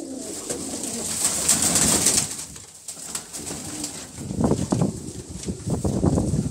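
Old-breed pigeons, including Shajapuri, Kaldumbe, Allahabadi and Bedag types, coo in soft repeated bursts close by, with a steady high hiss of background ambience throughout.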